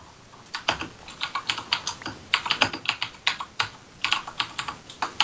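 Computer keyboard typing in a Minecraft gameplay session, with a steady run of close, crisp key clicks in irregular bursts, heard alone with no talk.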